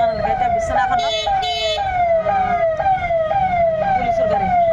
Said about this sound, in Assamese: পুলিচৰ গাড়ী কোনটো থাকে পুলিচৰ গাড়ী